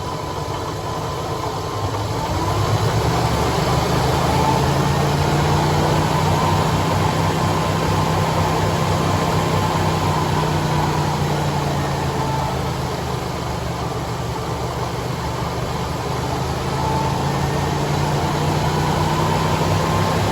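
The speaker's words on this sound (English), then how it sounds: "I'm gonna go rev it" An engine in a 1988 Ford, a car with an overcharging electrical system, runs loud and steady close by, rising after a couple of seconds and holding a sustained droning hum throughout.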